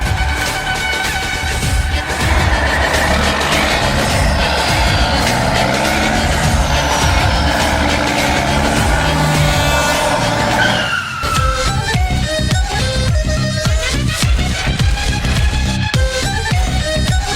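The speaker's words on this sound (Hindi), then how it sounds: "सर आवाज तो आ रही है जंगल में, जैसे ट्रक आ रहे हैं कोई" Heavy trucks rumble and approach through a jungle in the Free Fire video game, a loud continuous engine drone with skidding, tire squeal and air-brake hiss, shifting to choppier mechanical bursts near the end, with no talking.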